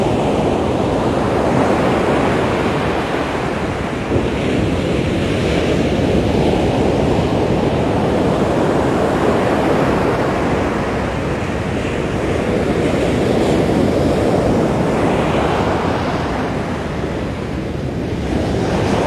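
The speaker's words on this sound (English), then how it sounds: "can you hear the ocean or can you just hear me?" Ocean waves wash steadily onto the beach at Ilha de Tavira, a loud, continuous surf roar mixed with wind buffeting the microphone, swelling and easing in slow surges with no voices.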